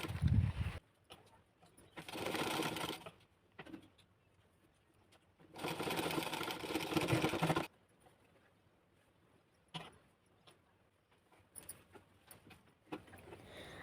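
A sewing machine stitches piping onto a blouse in two sustained whirring bursts, close and fairly loud, with quieter handling clicks and rustles between and after the runs.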